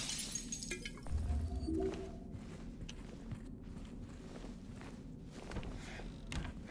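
Glass smashing in the Silent Hill 2 Remake game: a sharp breaking crash early on, then scattered clinks and shuffling footstep-like thuds over a low ambient rumble.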